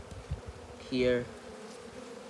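Honeybees at an open hive during an inspection, with pollen-laden workers on the frames, give a brief close buzz that swells and fades within a second over faint background hum.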